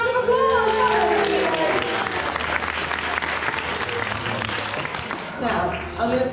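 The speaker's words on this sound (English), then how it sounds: "let's give her a big round of applause" An audience at a parrot show at an amusement park breaks into sustained applause, dense clapping from a crowd that tapers toward the end, with a presenter's voice audible at the start.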